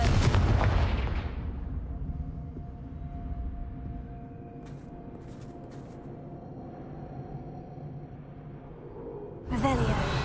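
A Confringo blasting spell fires in Hogwarts Legacy with a loud booming burst at the start that decays into a low rumbling tail, a few faint clicks in the middle and another sharp hit at the end.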